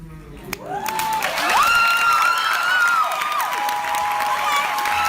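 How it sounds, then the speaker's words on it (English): An audience at a slam poetry reading breaks into sustained applause and cheering, with whoops rising and falling over steady clapping that holds for several seconds. "the people clapping, cheering, and snapping their fucking fingers"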